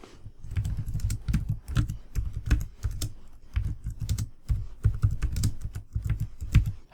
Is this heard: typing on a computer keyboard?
yes